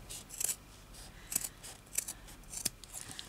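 Scissors snip through several stacked layers of fabric while making a slow-stitch embroidered needle book, four crisp separate cuts spaced about half a second to a second apart, close and fairly quiet with no talking.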